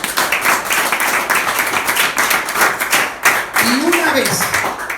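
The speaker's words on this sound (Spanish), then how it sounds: "Denle un aplauso a Jesús." A church congregation claps and applauds in a dense, continuous burst that fills the space, with a voice rising over the clapping near the end.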